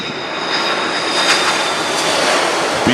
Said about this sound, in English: Here comes the A330 of Air France.